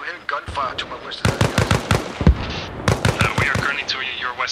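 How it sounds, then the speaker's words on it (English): Rapid volleys of gunfire in the video game ARMA Reforger during a resistance operation, sharp cracks clustered in bursts throughout, with people talking over the shooting. "I'm hearing gunfire to my west."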